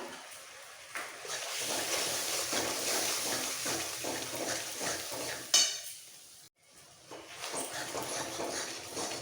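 Chana dal with ginger paste and green chilli paste stirred in a pan, giving a continuous soft sizzle and scraping with a brief clatter partway through, close and moderately quiet.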